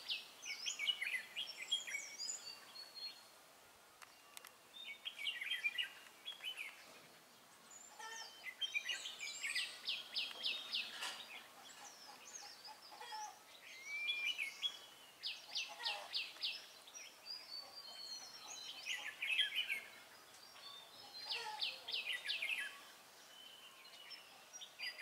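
Red-whiskered bulbul singing outdoors, bright repeated chirping phrases in recurring bursts over a faint background hiss, moderately distant and soft.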